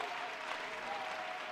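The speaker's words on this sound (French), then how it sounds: "Applaudis très bien pour le Seigneur des Seigneurs." A congregation at a mass prayer service claps together in a dense, continuous burst of applause, steady and fairly close, with no clear talking over it.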